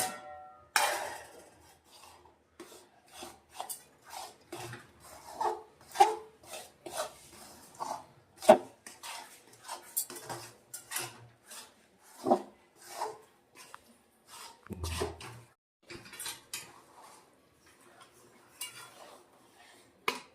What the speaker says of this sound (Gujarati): હવે આપણે આમાં સૂંઠ, ગંઠોડા પાવડર અને ખસખસ ત્રણેય વસ્તુ મિક્સ કરી